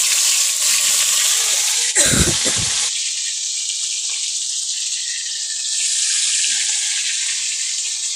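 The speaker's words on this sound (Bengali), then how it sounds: "একে একে আমরা সব লেগ পিসগুলো এই যে কড়াইয়ের ভিতরে ছেড়ে দিলাম" Chicken leg pieces fry in a wok, a loud steady hissing sizzle that runs throughout, with a brief deep splashing burst as more pieces drop into the hot oil.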